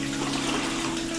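Water runs steadily into a container to dilute film developer, a continuous close pouring rush with no talk.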